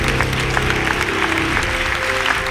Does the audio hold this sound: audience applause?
yes